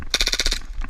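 Airsoft guns firing in an outdoor skirmish game near a red shipping crate, a rapid burst of about eight close, sharp shots in even rhythm, followed by a short pause and a faint final pop.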